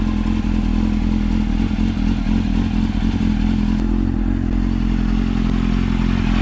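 A 1998 Suzuki GSX-R750 SRAD motorcycle idles steadily while warming up, a close, continuous low engine drone with light mechanical clatter throughout and no talking.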